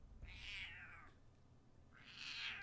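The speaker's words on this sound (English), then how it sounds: "And I have a grumpy cat." A grumpy male cat gives two long, drawn-out meows with a quiet gap between them, close by over a low background hum.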